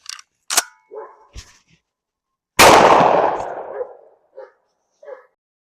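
A single loud, close shotgun blast from Winchester AA reloaded shells cracks sharply and decays over a second, surrounded by short clicks and handling noises.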